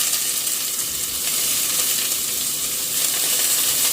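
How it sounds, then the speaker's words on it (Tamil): Sliced onion and chopped garlic sauté in a hot pan, giving off a steady, close sizzling and frying hiss that runs without a break and with no voices. "வெங்காயம் வந்து வதங்கி கொண்டிருக்கட்டும்"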